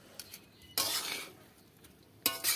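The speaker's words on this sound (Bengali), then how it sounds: "সব কিছু এর সাথে মিশিয়ে নেব আমি এইভাবে।" A utensil scrapes and clinks against a pot while egg biryani is stirred and mixed, two loud bursts of scraping separated by quieter pauses, no voices.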